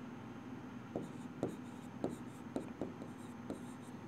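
Pen on paper while abbreviations of military ranks are written by hand for a bank exam reasoning puzzle, a quiet run of short scratchy strokes and taps in an irregular rhythm, close by.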